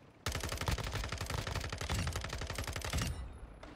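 Rapid automatic gunfire in Modern Warfare 2, a loud sustained burst of closely spaced shots that runs for about three seconds before stopping abruptly, with no talk over it.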